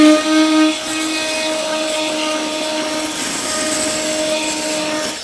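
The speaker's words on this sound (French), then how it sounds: "Je vais donc pour ce faire prendre mon patin carbure triangulaire qui va me permettre de venir faire du ponçage très proprement" A Fein Multimaster FMM350Q with a triangular carbide pad runs with a steady, high, tonal whine while it sands away glue residue left under an old tile. The tool hums close and loud throughout.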